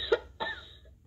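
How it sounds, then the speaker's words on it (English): Two short deep coughs from a patient manikin in a medical simulation, a sharp first cough and a second slightly rougher one, close and fairly quiet. "Can you cough deeper for me"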